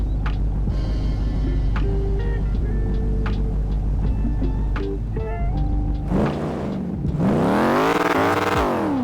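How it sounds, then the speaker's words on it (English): A custom V8 Chevrolet Camaro ZL1 engine in GTA V idles with a deep rumble, then roars loudly as it revs up and the pitch rises and falls. "we should hear our custom V8 sound"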